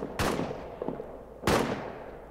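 Two heavy artillery blasts boom in a war video game, each a sharp close impact with a rolling decay, the second coming about a second and a half after the first.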